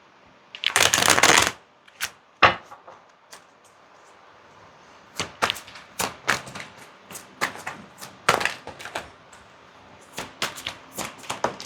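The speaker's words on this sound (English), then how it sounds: "one more big shuffle before we close it out" Tarot cards being shuffled in bursts: one long dense riffle up front, then a run of quick, crisp riffles and taps close to the mic, with no talking.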